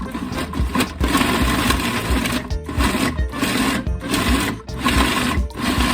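A kitchen appliance pulses energy ball ingredients under its lid: loud motor whirring in repeated bursts separated by brief pauses, no talk.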